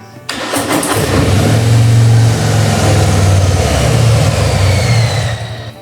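A Harley-Davidson motorcycle engine cranks and catches, then roars loudly and up close with a deep rumbling revving that surges and holds for several seconds before easing off.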